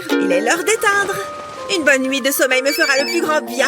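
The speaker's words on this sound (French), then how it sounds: "Hein? C'est mon téléphone, ça?" A mobile phone ringtone plays a bright melodic tune in repeating bursts, loud and close, while someone talks over it throughout.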